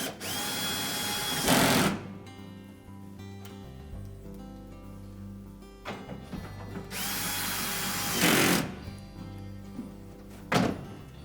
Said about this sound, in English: So put the retaining screws in.